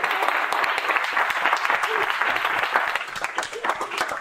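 An audience breaks into steady applause, a dense close patter of many hands clapping continuously for several seconds.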